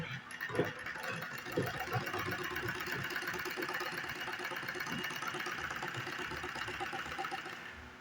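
A sewing machine stitches cloth with a steady, fast mechanical chatter that runs continuously and fairly loud, with occasional faint knocks underneath.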